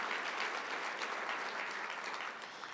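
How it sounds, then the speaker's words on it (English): An audience at the Milwaukee County State of the County Address claps in sustained, dense applause that stays loud throughout and tapers slightly at the end, with no one speaking. "Let's give them another round of applause"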